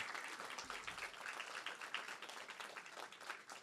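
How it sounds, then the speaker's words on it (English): An audience at a university honors ceremony, the SJSU Lurie College Dean's Scholars event, applauds in a continuous crackling wash of many hands, faint and distant in a large room. "give a big round of applause to the people in the back"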